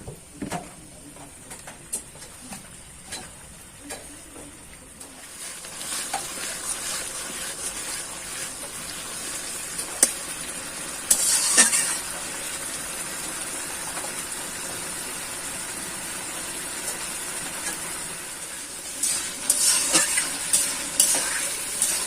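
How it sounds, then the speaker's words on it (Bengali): Spice masala for a koi fish curry fries in oil and is stirred, a fairly quiet sizzle with scraping and clinks that grows busier partway through and continues throughout. "দেখো এবার মশলা কষানো হয়ে গেছে, দেখেছো তেলটা উপরে উঠে গেছে।"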